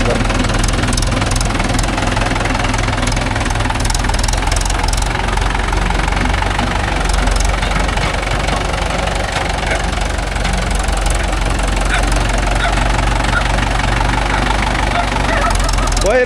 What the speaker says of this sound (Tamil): தலைவர் ரிவேஸ் விட்றாரு பாருங்க.